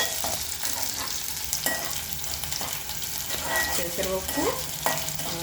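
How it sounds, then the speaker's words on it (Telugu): Spring onions fry in a pan for a moong dal curry. A steady sizzle is broken by repeated scraping and clinking of a spatula stirring close by, with no one talking. "ఉల్లికాడలు మీరు కూడా ఇట్లా ఫ్రై చేయండి"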